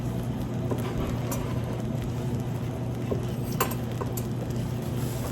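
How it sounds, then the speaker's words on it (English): Pecan coconut praline cookie mixture bubbling toward a full boil in a pot on a stovetop, a steady soft patter and crackle with faint clinks, close and continuous with no talk. "Got that nice little boil coming. Almost a full boil."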